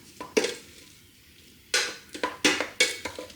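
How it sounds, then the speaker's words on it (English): A spoon stirs rice in a Ninja Speedi cooker pot, giving several sharp scraping clinks in irregular bursts with quiet gaps between, close and fairly loud. "then just give it a quick stir"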